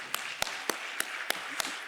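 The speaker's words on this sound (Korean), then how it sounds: "하나님께 영광의 박수를" A church congregation claps during a Sunday worship service, six sharp, evenly spaced claps ringing out over a quiet room.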